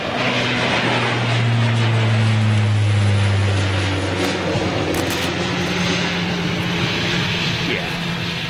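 At a planespotting spot by an airport, an airplane's engines roar loudly as it departs, a heavy droning whine that swells and then eases while a voice sounds faintly beneath it.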